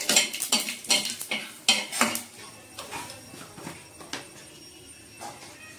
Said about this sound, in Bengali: এখানে সাদা জিরে, শুকনো লঙ্কা, তেজপাতা ফোড়ন দিয়ে দিলাম